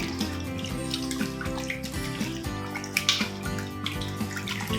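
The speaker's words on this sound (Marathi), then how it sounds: "इथे मी दुसऱ्यांदा पाणी घेतलेलं आहे त्यांना व्यवस्थित असं चोळून घ्यायचं आहे" Potato slices for wafers are rubbed by hand in a bowl of fresh water, giving close, continuous sloshing and splashing with small bursts of swirling water.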